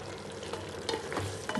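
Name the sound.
mushrooms added to frying pan, sizzling while stirred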